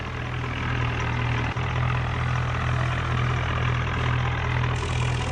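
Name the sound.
Sawraj 963 tractor engine with trolley in a video game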